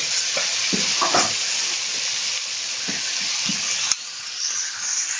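Vegetable hakka noodles stir-fry in a pan with a loud, constant sizzle, and a spatula scrapes and tosses in short, uneven strokes close by.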